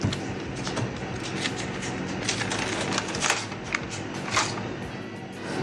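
Protective film peeled off a MacBook Pro M3 laptop makes a close, continuous crackling rustle with quick ticking snaps that grow a little louder midway, with no speech.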